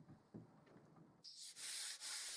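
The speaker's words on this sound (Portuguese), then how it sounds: "fui direto para a lixação e decidi fazer à mão para não correr o risco de lixar através da folheado" Hand sanding with 80-grit sandpaper strips old finish from the wood veneer of a mid-century modern sideboard, a close, steady rasping scrub that starts after a quiet moment and runs in long strokes.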